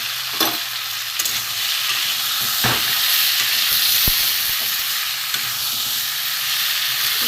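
A vegetarian curry being sautéed in a pan with garam masala gives a steady close hiss and sizzle, with occasional scrapes and taps of stirring. No one speaks.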